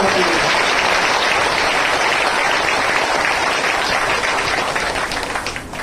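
A church congregation claps loudly for God during worship, a dense, sustained wash of clapping that fills the room for several seconds before tapering off at the end, with some voices mixed in.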